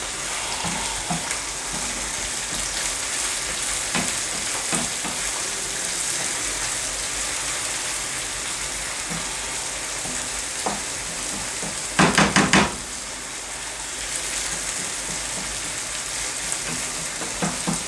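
Fish being stirred through a sauce in a cooking pot, a steady close sizzle with rain-like crackle throughout, broken by a few soft stirring scrapes and a brief louder clatter near the middle.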